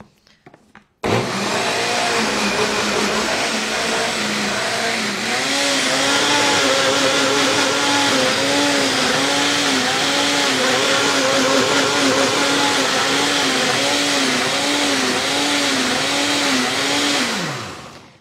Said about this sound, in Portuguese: E agora vamos bater de novo aqui no liquidificador.